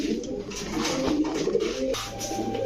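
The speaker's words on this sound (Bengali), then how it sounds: "পাকিস্তানি বাবরা কবুতর" A Pakistani Babra pigeon coos softly nearby, repeated low burbling calls over a steady background hum, with no talking.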